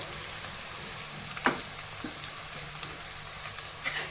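Chopped tomato goes into a hot frying pan with onions for a Gujarati drumstick (sargava) curry, giving a steady close sizzle with a few soft stirring knocks.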